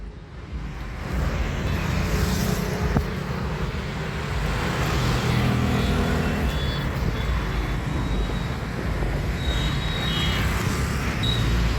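A car starts and runs along a road, a steady engine and road rumble that rises after the first second and holds, with faint high beeps now and then.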